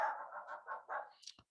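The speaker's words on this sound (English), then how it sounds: "My dog's a little happy." A happy pet dog gives a run of five or six quick barks, close and moderately loud, ending in a brief higher yip, heard indoors with no speech over it.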